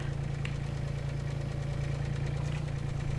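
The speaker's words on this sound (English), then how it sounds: "So yeah, we'll get the mower out." Ride-on lawn mower engine in a farming video game, a steady low idling rumble with a faint knocking pulse, close and constant, with no talk.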